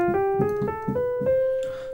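Minor form of the 6th diminished scale with a flattened third, played as evenly spaced single notes rising one after another and ending on a held tone, close and alone.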